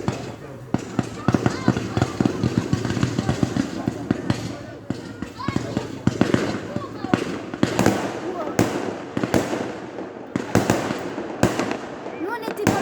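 Fireworks on the night of 10 August 2020 burst loudly again and again, with rapid crackling volleys and sharp booming bangs in dense irregular bursts, while people talk in the background.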